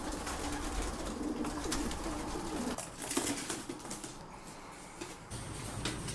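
Pigeons in a loft coo softly and intermittently, faint and somewhat distant, over a background of rustling and light clatter.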